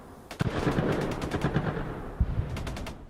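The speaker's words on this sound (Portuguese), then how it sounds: "E os tiros e explosões continuam." Gunfire and explosions from street fighting in Sudan: a rapid run of sharp, cracking shots and bursts fills the clip, with a heavier blast near the end followed by more scattered shots.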